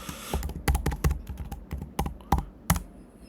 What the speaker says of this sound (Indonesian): Di sini Abdul, enter password.